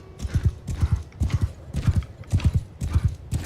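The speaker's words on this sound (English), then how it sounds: "Okay, I can hear a horse." Horses galloping in Mount and Blade II: Bannerlord, loud rapid hoofbeats in repeating rhythmic bursts, close and continuous across the clip.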